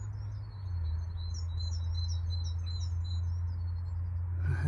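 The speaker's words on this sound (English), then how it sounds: "I'll just let the birds sing for a moment." Birds sing in the English countryside in springtime, with a steady run of bright, high chirps and trills over a constant low rumble, no talking, and a brief noise at the end.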